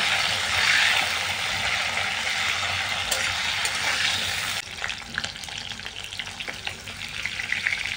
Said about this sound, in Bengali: আমি ফুলকপিটাকে একটু লাল করে ভেজে নেব